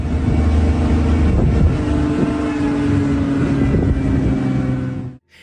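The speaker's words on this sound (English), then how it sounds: "The forest echoed with the sounds of the car's engine" A car engine drones loudly and steadily with a low, rumbling tone close by, with no talking, before cutting off abruptly at the end.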